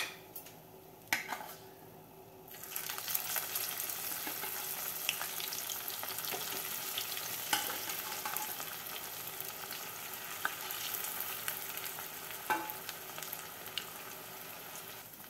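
Fish fillets fry in a shallow layer of oil in a pan for an Andhra-style meal, a steady close sizzle with occasional scrapes and taps from a turner.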